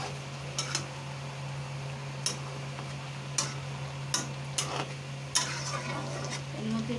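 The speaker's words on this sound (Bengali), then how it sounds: "বন্ধুরা, শাকটা নিয়ে নাড়াচাড়া করে নেব।" Boiled leafy greens with a little potato are stirred in a pan, giving sporadic close scrapes and clicks of a utensil over a steady low simmering hum, with no voices.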